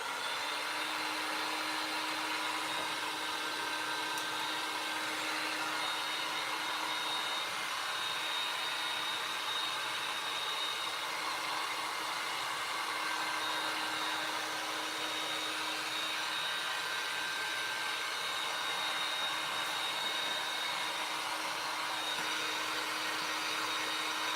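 Hair dryer blowing on a glued circle-style DIY Christmas tree frame, a steady close whooshing hum that runs unbroken for the whole stretch, with no talking.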